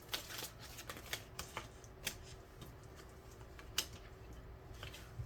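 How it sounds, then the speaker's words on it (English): A deck of tarot cards is shuffled by hand in a quiet room, soft ticking flicks and small slaps of cards coming in a loose, irregular run, close but faint. "Let me shuffle these."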